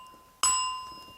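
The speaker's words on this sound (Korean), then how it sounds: "종소리가 났을 때" A bell is struck once, giving a sharp attack followed by a clear, sustained ringing tone that slowly decays, heard alone against a quiet background.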